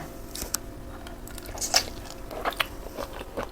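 Raw shrimp soaked in fish sauce being bitten and chewed up close, with soft wet squishes and a few crisp crunchy bites in an uneven rhythm, no talking.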